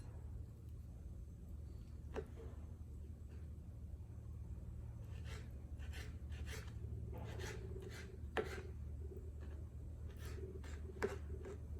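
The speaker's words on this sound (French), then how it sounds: "Je vais commencer par couper mes olives noires en petits" A knife chopping black olives into small pieces on a board, faint scattered taps that quicken into short bursts of chopping against a low background hum.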